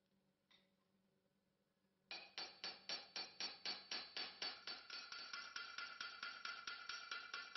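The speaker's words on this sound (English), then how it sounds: "The protruding ends of the rivets are then beaten flat." A hammer beats the protruding rivet ends flat on a sword pommel in a quick, even series of sharp metallic taps after one isolated tap, steady and close with no talk.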